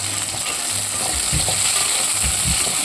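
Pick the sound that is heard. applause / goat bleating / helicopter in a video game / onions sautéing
onions sautéing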